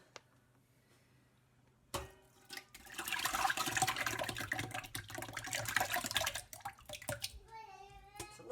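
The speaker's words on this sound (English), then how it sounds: "We simply pour the yogurt into the flour cloth." Homemade yogurt is poured into a flour cloth over a pot, a wet, sloshing splatter lasting several seconds after a quiet start, followed by a brief voice at the end.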